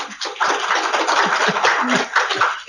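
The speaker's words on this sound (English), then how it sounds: "So we should give both David and Natalie a round of applause" A seminar audience applauds the speakers at a research talk on precision medicine for childhood cancer: dense, steady clapping swells in quickly and holds loud and even before trailing off at the end.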